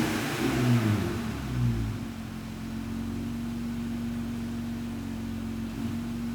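Jeep Gladiator with a Magnaflow exhaust revving, a brief burst of throttle in the first two seconds settling into a steady low idle drone, heard from a moderate distance without talk.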